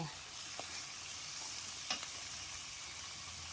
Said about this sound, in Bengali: মাংসটা দিয়ে আমি নাড়াচাড়া করব।